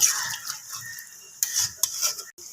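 Methi chicken finished with kasuri methi being mixed in a kadai: a spoon scrapes and clinks against the metal pan in short irregular strokes, close and moderately loud, with faint sizzling underneath and no talking.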